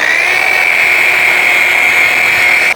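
A sisal buffing wheel charged with steel cut compound runs against a steel pipe, giving a loud, steady high-pitched whine that holds evenly before cutting off abruptly at the end.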